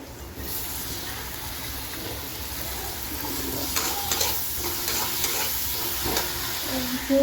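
Beans and potatoes fry and sizzle steadily in a pan as they are stirred, with scraping stirs and brief clatters over a constant hiss and no voices.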